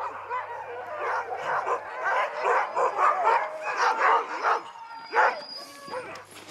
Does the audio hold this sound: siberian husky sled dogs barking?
yes